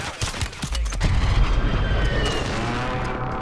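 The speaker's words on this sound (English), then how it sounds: "Someone else is shooting at that guy?" Gunfire in a Call of Duty match, a loud burst of booming shots in the first second giving way to a dense, continuous rumble of distant fire and explosions.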